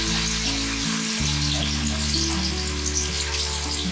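Onions sizzling in hot oil in a pan, a loud, dense frying hiss that holds steady throughout, with a brief dip near the start as they go in.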